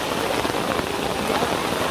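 Heavy rain pours down steadily beside a flooded high bridge, a dense, close hiss of drops on surfaces with no break.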